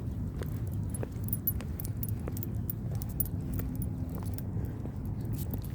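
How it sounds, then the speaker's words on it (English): A dog leash is unwrapped outdoors on a walk through the Tustin Wetlands, giving faint metallic jingles and clinks over a steady low rumble of wind and background noise, with no talking. "Try one more time to get this on. There we go. Get that leash unwrapped."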